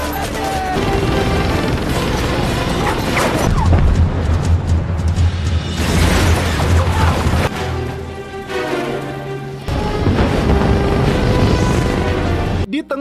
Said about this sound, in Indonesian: Di tengah hujan peluru dan ledakan bom, Sander mendapatkan sebuah motor trail.